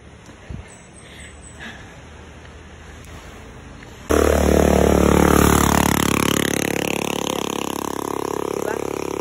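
A motorcycle labours up a steep forest incline. It sets in abruptly and loud after quiet outdoor ambience, then holds a strained, droning engine note whose pitch climbs and wavers as it works up the slope.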